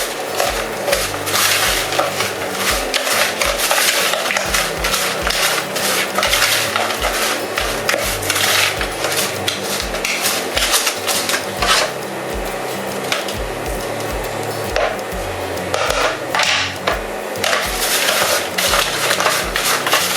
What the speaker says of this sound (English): I'm getting the brown sugar and the butter mixed together.